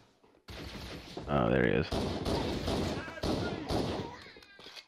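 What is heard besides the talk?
gunshots in video game Halo: Combat Evolved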